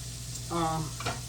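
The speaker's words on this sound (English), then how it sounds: "we're just going to let those wings fry" Chicken wings fry in a pan with a steady, close crackle and sizzle that holds throughout, with a brief tonal swell partway through.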